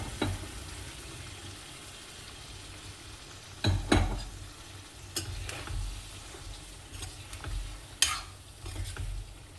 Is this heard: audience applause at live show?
no